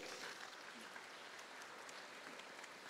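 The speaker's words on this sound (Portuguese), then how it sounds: "Aplauda a igreja." A church congregation at a Catholic community preaching event applauds, a steady dense wash of clapping held evenly throughout, fairly quiet and distant-sounding.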